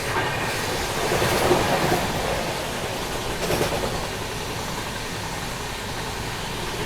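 The Humsafar Express from Rameshwaram to Firozpur rushes along at speed, a loud, steady roar of wheels and rattling carriages heard from on board.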